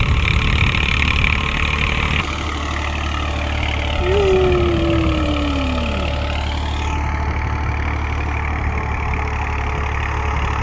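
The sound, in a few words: tractor engine running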